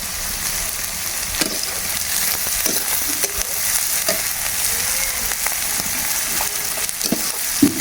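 Prawns, onion, garlic and green chilli fry in hot oil in a wok over a clay stove, a steady close sizzle running throughout with occasional stirring clatters.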